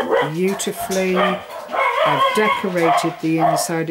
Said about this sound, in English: Excuse the dogs, they've gone absolutely ballistic.